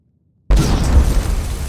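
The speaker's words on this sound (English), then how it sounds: "bit of an explosion" A loud explosion in the fantasy game Enderal, a Skyrim mod, bursts in abruptly after near silence and keeps roaring with a dense, rumbling tail, with no talking over it.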